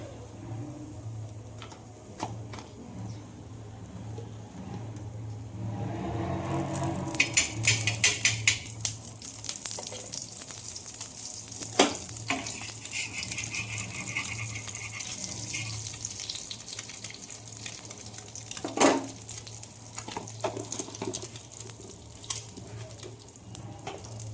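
Tea is strained into a cup as a steady stream of liquid pours and splashes, starting after a quiet opening and running on with small clinks, no voices.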